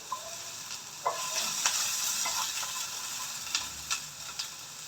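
Spices for a mutton sambar frying in a pan, with a steady soft sizzle and a few light scraping stirs and ticks from a spoon against the vessel, close and alone.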